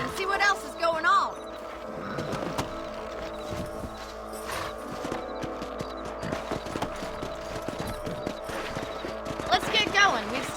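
Horse hooves in the Red Dead Redemption video game clop steadily at a walking pace throughout, with a brief snort or whinny, under occasional game ambience and some talking.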